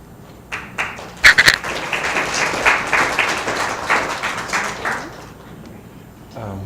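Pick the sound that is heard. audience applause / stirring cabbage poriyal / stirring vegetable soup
audience applause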